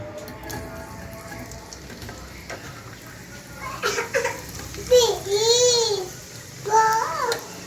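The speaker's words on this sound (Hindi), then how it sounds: "इसके अंदर मैं ये जो 2 अदद मैंने प्याज काट के रखी थी छोटे साइज़ की," Chopped small onions frying in the oil left from fried prawns, a steady low sizzle with stirring, joined by a voice and adult talk over the second half.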